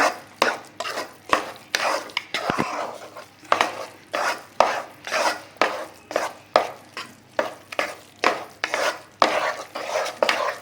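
A spoon scrapes and stirs sweet pongal, rice cooked with jaggery, in a pot. The strokes come as steady, evenly spaced rhythmic scrapes, close and clear, with no talking.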